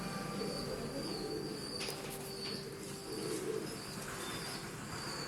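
Pigeons in a cage give soft, continuous cooing, with bursts of wing flapping and scuffling as a black pigeon chases another, all close by and without any talking.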